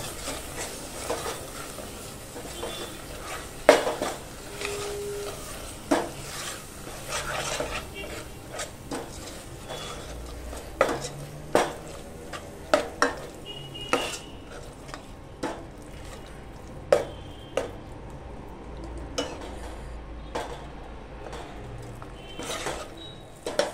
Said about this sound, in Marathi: 4 मोठे चमचे एवढा आपण वाटप घेतलेलं आहे. ते पण ना असं परतून घेऊया.